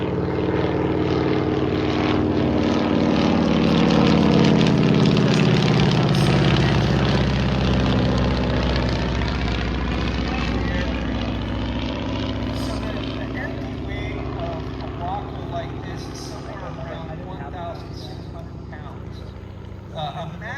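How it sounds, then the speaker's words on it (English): A Waco UIC biplane's propeller engine flies past, a loud droning roar that swells to a peak and then slowly fades as it moves away, with a voice speaking over it. "There goes the Waco"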